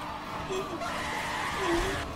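A video game character lets out a short, wavering scream with a couple of rising and falling wails over a low game background, lasting about two seconds.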